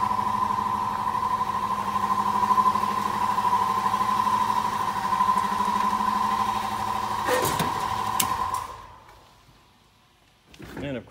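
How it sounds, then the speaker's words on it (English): Air compressor running in a garage during tire work on a Dodge Ram 1500: a loud, steady motor drone with a strong hum that holds for about eight seconds, then clatters and cuts off, leaving near silence before a brief noise. "the compressor kicks in just as I'm about to do my signature sign off"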